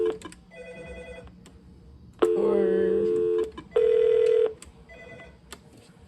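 An office phone on a 6 x 16 phone system is dialed: scattered short keypad beeps surround two longer, loud sustained tones in the middle, with a faint background hum between them.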